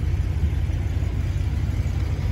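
A fully serviced Range Rover P38 with a 4.0 V8 and new exhaust manifolds idles steadily, a deep, even low rumble close by, alone with no voices.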